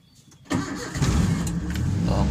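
A Suzuki Zebra Espass car engine cranks and catches, settling into a steady, close, loud idle that holds to the end.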